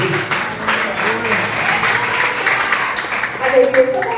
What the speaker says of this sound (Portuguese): Receba valor, com as palmas bem fortes para Jesus.